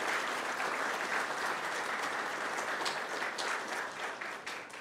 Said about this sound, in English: join me in giving this amazing team a great big round of applause